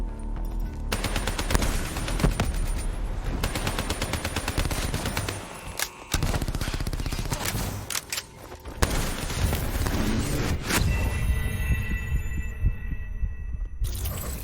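Dense sustained gunfire in the Call of Duty Black Ops 3 campaign's final mission, with continuous rattling bursts and heavy low thuds over nearly fifteen seconds and a short lull around the six-second mark.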